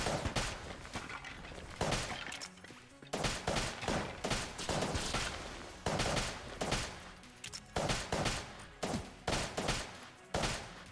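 The Polaris gun in Enter the Gungeon fires shot after shot in dense, fast bursts that pile up into a busy, continuous barrage of game gunfire for the whole stretch.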